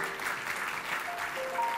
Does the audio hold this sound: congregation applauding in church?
yes